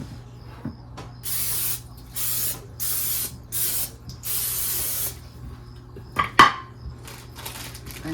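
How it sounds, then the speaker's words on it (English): Cooking spray hissing onto a pan in several short bursts during kitchen prep of ground beef, each spray lasting under a second, followed by a couple of sharp clinks of cookware, close and clear in a quiet room. "I'm gonna go ahead and spray this pan."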